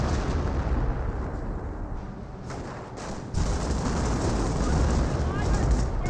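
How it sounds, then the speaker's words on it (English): An artillery barrage in Company of Heroes: a dense, continuous roar of overlapping blasts and rumble, loud throughout, with a brief dip and then a sharp swell about halfway through. "Speaking of Humo barrages, we've got Humo barrage over here."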